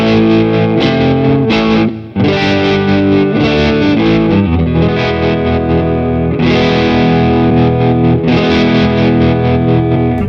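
An electric guitar runs through an MXR tremolo pedal that pushes the amp into overdrive, giving loud, distorted chords and riffs that play on steadily with only one brief dip.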